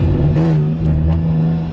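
A BMW E46 with a new intake manifold and tune accelerates, its engine giving a loud, close, steady drone that rises slightly. There is no talking.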